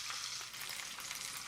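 Veal shanks browning in a pot give off a loud, continuous sizzle and crackle of frying, with brief stirring sounds and no talk.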